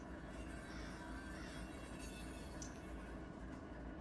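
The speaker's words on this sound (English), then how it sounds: "Hear that flange grind on there." Train wheel flanges grind across a crossover in the Run 8 Train Simulator game, a faint, steady rumble of rolling railcars with thin squealing tones above it.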